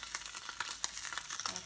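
Bluegill fillets frying in a pan give off a steady, close crackling sizzle with small irregular pops and spits throughout.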